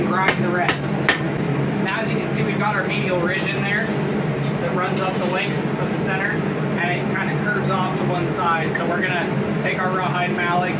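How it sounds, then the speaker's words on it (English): Hammer blows forging a blade from scrap coil spring steel, a few sharp ringing strikes early, then scattered lighter taps over a steady roar of forge or blower noise, with a voice talking throughout. "So we're gonna forge as close to shape as we possibly can"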